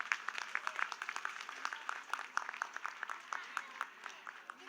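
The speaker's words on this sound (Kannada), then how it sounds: "ಇನ್ನೊಮ್ಮೆ ನಮ್ಮ ಮಕ್ಕಳಿಗೆ ಜೋರಾದ ಚಪ್ಪಾಳೆ" Audience at a Ganeshotsava children's dance performance applauding, a thin, fairly faint patter of scattered hand claps from a modest crowd lasting throughout.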